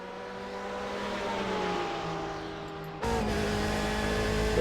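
A Nissan race car at Monza roars past in a sustained, loud engine drone that rises and swells, then jumps to a harsher, closer tone partway through, with no talking over it.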